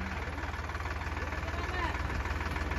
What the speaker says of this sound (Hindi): रड़ाक मार दी ट्रैक्टर ने बिल्कुल